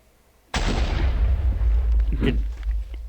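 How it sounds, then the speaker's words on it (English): Mortar shell in the Minecraft mob battle fires and strikes a mob, a sudden loud blast with a broad rumbling tail, followed by a smaller pop and continued low rumble. "Did I see like a mortar fly and hit this thing flawlessly after all that whole craziness before?"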